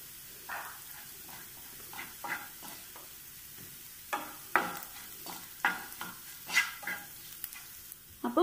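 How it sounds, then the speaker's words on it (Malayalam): Ground coriander powder dry-roasting in a pan for a Kerala-style hibiscus tamarind curry, with soft stirring scrapes and faint sizzles recurring at an irregular pace, fairly close, with no talking. "ഒരു ചെറിയ ടീസ്പൂൺ മല്ലിപ്പൊടി, അതൊന്ന് മൂത്ത് വരട്ടെ."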